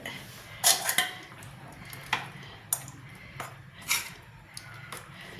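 A metal lid clanks onto a pot of Nellore fish curry, giving a few sharp clinks and rattles spread over several seconds against a quiet kitchen background.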